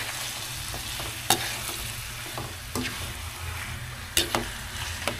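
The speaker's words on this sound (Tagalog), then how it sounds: "Tapos haluin lang natin." A spoon stirs chicken tinola seasoned with pepper in a pot, with a few sharp scrapes and clinks against the metal over a steady simmering hiss.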